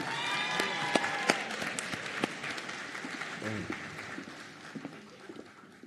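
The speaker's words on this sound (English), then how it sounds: "Round of applause for our Lambeth faculty members." Applause for faculty members at a nursing college graduation ceremony, a broad steady patter of clapping from a large crowd that slowly fades, with a few sharper claps and a brief voice partway through.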